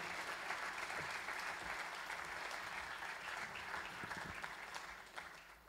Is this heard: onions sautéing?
no